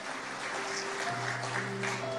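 Congregation applause during a church service: steady, dense clapping that fills the room, with sustained keyboard tones held underneath throughout.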